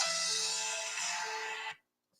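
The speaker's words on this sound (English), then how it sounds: "Sorry, my phone's going off." A mobile phone ringing, heard as a steady, fairly loud electronic tone over a bright, hissy wash. It cuts off abruptly after under two seconds, followed by silence.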